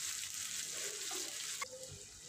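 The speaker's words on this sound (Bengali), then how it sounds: "কিছুক্ষণ পেঁয়াজটা ভেজে নেব" Chopped onions with slit green chillies fry in a pan for a dhaba-style chicken curry, giving a quiet, steady sizzle with soft hiss and a faint clink partway through.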